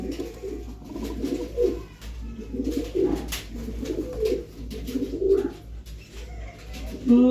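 Pigeons kept for sale coo steadily in low, rolling phrases, several birds overlapping close by against a constant low hum, with no talking.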